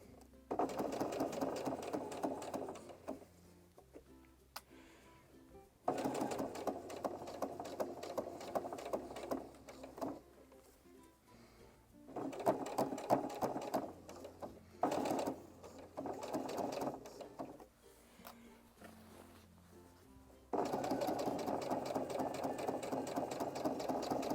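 A sewing machine stitches a lapped zip in rapid bursts, running for a few seconds at a time with short pauses between, close and clear with no talking.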